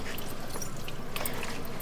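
Water pours and trickles steadily into compost and soil in a terrace garden, with small splashy drips over a soft, continuous gurgle.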